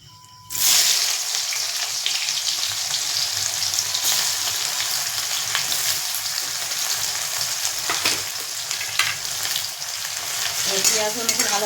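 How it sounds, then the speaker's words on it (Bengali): Two bay leaves and onions hit hot oil for a chicken kosha, bursting into a sudden loud sizzle that settles into steady close frying with light stirring scrapes toward the end. "এবার ফোড়নে দিয়ে দেবো তেজপাতা দুটো দিয়ে দেবো।"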